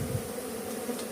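Honeybees of the genus Apis buzz close around wooden hive boxes in a dense, steady drone.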